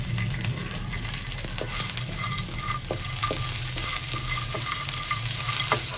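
Fox nuts and raisins fry in hot ghee, a dense continuous sizzle up close with light stirring scrapes and occasional soft taps of a spoon against the pan.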